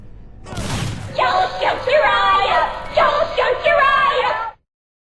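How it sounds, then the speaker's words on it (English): Mine set off by a grenade in the game Enemy Territory: Quake Wars: an abrupt, loud burst followed by a run of rumbling, crackling explosive tones that rise and fall for several seconds before cutting out. "take a look at the blast radius that hits the player as I set off this mine with my grenade"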